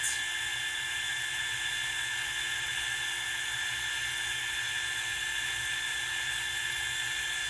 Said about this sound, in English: we're just gonna go around and heat up all of our embossing powder like so